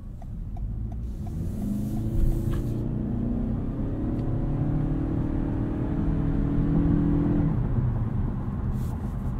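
Cabin sound of a 2022 Toyota Camry hybrid with a 2.5 liter engine under way: a low steady road rumble with a rising, then falling engine drone as it accelerates, fairly quiet and continuous.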